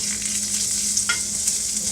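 Sesame oil sizzling steadily in a pan while preparing miso negi, a continuous bright frying hiss close up with a faint stir partway through.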